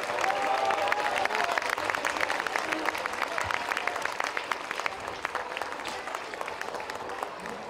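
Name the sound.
audience applause for Luc, the stage director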